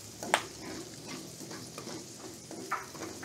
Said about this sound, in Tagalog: Ilalagay na po natin mga paps yung ating sibuyas at bawang. Gigisa na po natin.